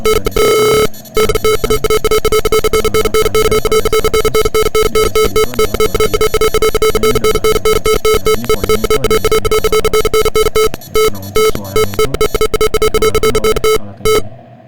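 An electronic buzzer from a car proximity sensor sounds continuously, a harsh rapid pulsing tone that stutters with brief gaps, loud and close throughout.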